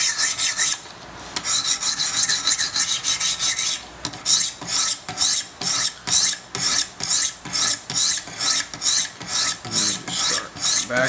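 A Large Sebenza 21 Insingo knife is drawn across Wicked Edge sharpening stones in a steady back-and-forth rhythm, each close, loud rasping stroke followed by a brief gap, about two strokes a second after an early smoother passage.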